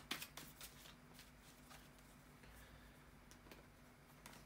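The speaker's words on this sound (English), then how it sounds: "bear with me for a second, guys, to shuffle the tarot cards." Tarot cards being shuffled by hand, a quiet run of soft riffling and flicking with a few sharper snaps near the start, close and faint, with no talking.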